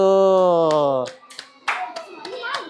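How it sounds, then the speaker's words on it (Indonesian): Classroom applause for a student group: a voice holds a drawn-out tone for the first second, then a scattering of separate hand claps follows, sparse and uneven rather than a full ovation. "Kita beri tepuk tangan untuk kelompok 1."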